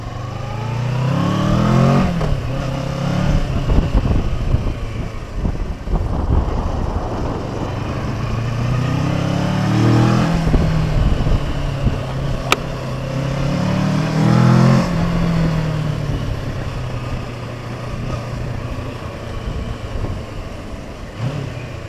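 Kawasaki Versys 650 motorcycle engine running nearby, loud and continuous with repeated rising revs and drops over about twenty seconds.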